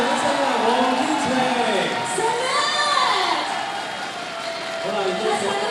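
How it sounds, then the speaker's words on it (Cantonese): An audience at a Hong Kong boxing championship final cheers and shouts loudly and continuously for a boxer, with a crowd roar under a voice speaking over a microphone. "再次歡迎嘅掌聲啊，黃天晴。"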